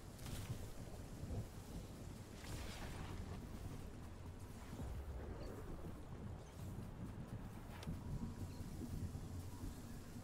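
A storm in the Fortnite video game rumbles with steady thunder-like roaring and rushing wind and rain noise, continuous and fairly faint throughout, with no talk.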